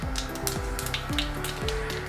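Mustard seeds and dried red chillies spluttering in hot coconut oil, scattered sharp crackling pops over a continuous sizzle, accompanied by a repeating falling tonal hum, no speech.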